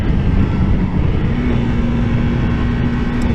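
A 2022 KTM 390 Duke single-cylinder engine drones at a steady pitch while riding, loud and close with strong wind rumble, the tone rising slightly partway through.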